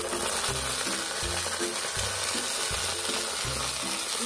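Ají chili peppers are stirred in oil in a pan, giving a steady close frying hiss with rhythmic scraping strokes of a spoon repeating about every half second, without any speech.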